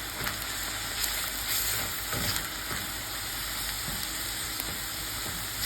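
Spicy sausage frying in a pan for pasta, giving a continuous, close, loud sizzle with a few faint scrapes and pops over it and no talking.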